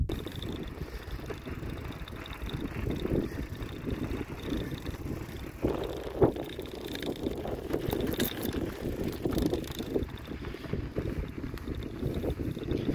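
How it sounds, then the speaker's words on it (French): Wind blows through a desert canyon near Abanilla, Spain, a faint, steady rushing with soft buffeting on the microphone and a few small knocks, with no talking. "il y a du vent encore"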